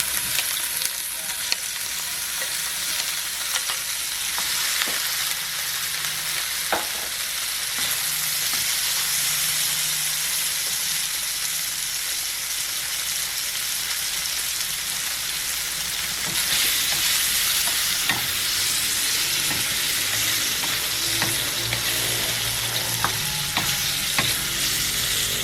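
Spam slices fry in a little oil in a pan, giving a steady crackling sizzle with scattered sharp pops and occasional stirring or scraping, close and continuous without talk.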